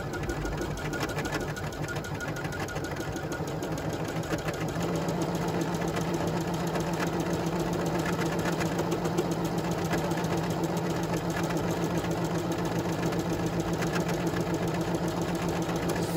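A bernette b77 sewing machine stitches out a decorative design with a continuous, even mechanical whir and rapid needle patter, close and steady throughout.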